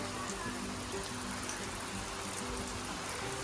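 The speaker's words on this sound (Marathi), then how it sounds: "अजून पाऊस पडतोय" Steady, soft rain falls continuously in a Konkan village, with a faint patter and no voices.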